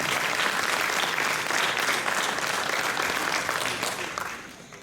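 Audience applause for the Adventist Church at a centenary celebration in Martinique, a dense steady burst of clapping from a large crowd that fades away over the last second.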